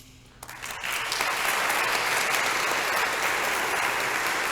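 A graduation audience at a Catholic school ceremony applauds altar servers, a dense, sustained round of clapping that rises quickly after a short quiet start and stays steady and fairly loud throughout.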